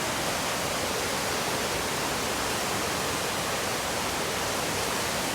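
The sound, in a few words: flooded river rushing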